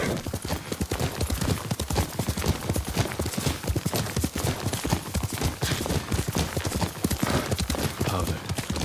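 A horse galloping at full speed in the samurai video game Ghost of Tsushima, rapid continuous hoofbeats pounding close and loud in a driving rhythm throughout.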